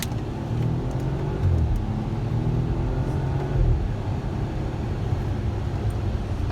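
A 2017 BMW 540i xDrive M Sport in manual first gear accelerating hard, its engine note climbing steadily in pitch over a constant loud rumble, heard from inside the cabin with no talking.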